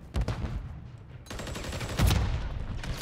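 Automatic MCW rifle fire in Modern Warfare 3 multiplayer, bursts of shots scattered through the clip, with a louder cluster partway in and game sounds in the background.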